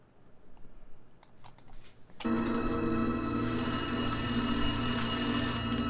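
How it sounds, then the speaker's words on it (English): A few quiet clicks, then several telephones burst into ringing at once, overlapping bells continuing loudly and steadily to the end. "All the phones ringing."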